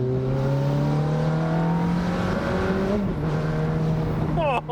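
Standard exhaust of a 2007 Ferrari F430 Spider, loud and close, a steady raucous engine drone whose pitch climbs gradually as the car pulls hard, with a brief lift near the end.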